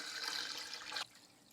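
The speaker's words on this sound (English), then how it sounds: "I'm just going to pour some more of this whey out from the top of my curds." Whey poured off the top of fresh cheese curds while making Gouda, a steady close splashing stream of liquid that stops abruptly, leaving quiet room tone.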